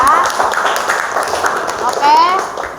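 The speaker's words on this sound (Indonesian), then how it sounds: "Tepuk tangan." A school class in Indonesia claps hands together in a brisk rhythmic pattern, close and lively, with a teacher's voice and children's voices mixed in.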